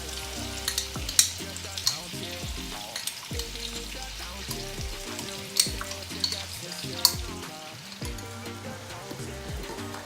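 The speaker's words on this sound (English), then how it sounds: "So here is our olives, chorizos and prawns. Just frying just a little bit." Olives, chorizo and prawns with chili flakes fry in a pan, a soft steady sizzle broken by the clinks and scrapes of stirring, heard up close and alone.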